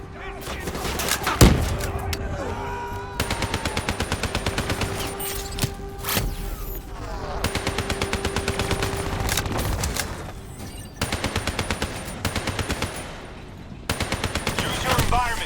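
Rapid gunfire from Call of Duty: Black Ops 3 on the New World level, several sustained automatic bursts with short pauses, an explosive boom near the start, and game effects in between.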